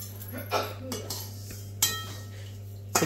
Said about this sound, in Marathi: ओके, एक हलकंसं त्याला भाजून घेऊ.